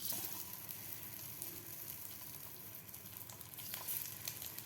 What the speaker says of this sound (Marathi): तेल आपलं गरम झालेलं आहे तर यामध्ये आपल्याला हे अंडे घालून घ्यायचे आहेत